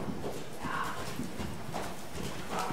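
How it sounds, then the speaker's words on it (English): Horse hooves clip-clop at a steady walking pace, moderately close, with faint background noise and no talking. "Gus, that's her horse."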